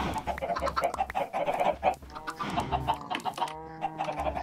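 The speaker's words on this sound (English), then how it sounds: "Oh, we have chickens. Lots of chickens." Chickens clucking in a video game, a busy flock of close, repeated clucks and squawks in irregular bursts, with no talking over them.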